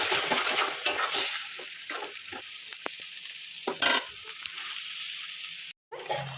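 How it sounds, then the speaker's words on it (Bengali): Onion, ginger, garlic, dried chilli and green chilli paste sizzle in a hot pan while being stirred, with repeated scraping strokes and soft clinks over a steady frying hiss. "এবার দিয়ে দেবো পেঁয়াজ আদা রসুন, একটু শুকনো লঙ্কা আর কাঁচা লঙ্কার পেস্ট"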